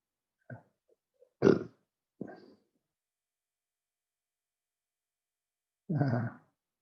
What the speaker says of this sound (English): You probably heard me burp.